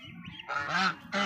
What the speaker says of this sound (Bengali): রাজহাঁসের বাচ্চা দেখেন